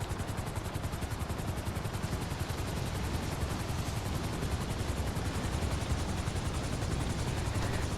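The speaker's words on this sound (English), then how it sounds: "I really love flying helicopters and planes in this game" Helicopter in Grand Theft Auto V flying steadily, a loud continuous rotor chop and engine roar with rapid even pulsing throughout, no talk.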